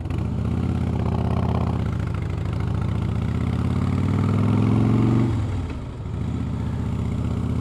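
Harley-Davidson Fatboy motorcycle, about fifteen years old and fitted with very loud aftermarket pipes, idling with a deep steady low throb that swells briefly, then dips and settles back, with no talk.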